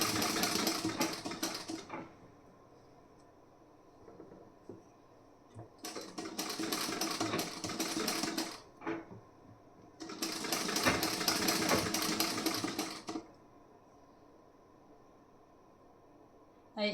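A sewing machine stitches a blouse piece in three loud, rapid whirring bursts of a few seconds each, with quiet pauses between them.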